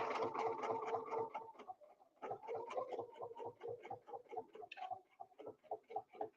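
A sewing machine stitches a quilt block in rapid, even bursts of needle strokes, pausing briefly before running on in a steady clattering rhythm, close and clear.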